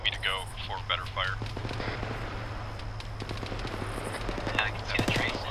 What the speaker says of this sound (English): Machine gun fire coming from the hilltop